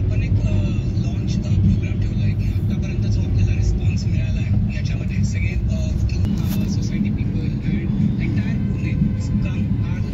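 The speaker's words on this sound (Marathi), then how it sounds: "त्यामुळे भयानक ट्रॅफिक आहे सिंहगड रोडवर।" Heavy road traffic on Sinhagad Road in Pune, near a bridge under construction, forms a dense, steady engine rumble of cars and buses that holds for the whole stretch. It stays loud and close throughout, with a person talking over it.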